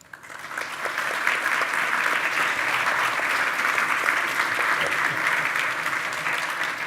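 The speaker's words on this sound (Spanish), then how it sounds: "merecidísimo aplauso" An audience at an industrialization and digitalization talk by Aquatherm bursts into applause after the speaker finishes, a sustained dense clapping from a crowded room that swells quickly and holds steady, with no voices over it.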